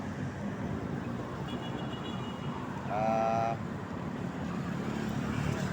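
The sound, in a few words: motorized fishing boats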